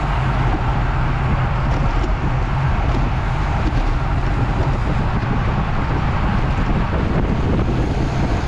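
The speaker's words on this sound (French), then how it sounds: "mon principal ennemi aujourd'hui, clairement, c'est le vent" Strong wind buffets the microphone during a bike race, a loud constant low roar that fills the recording throughout.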